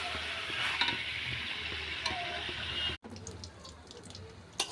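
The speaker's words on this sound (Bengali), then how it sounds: "মাংস ভালো করে কষে নিচ্ছি।" Meat being sautéed in a pan for kosha gives a steady close sizzle with soft scraping of a stirring utensil, a brief break midway, then quieter frying with a few sharper clinks.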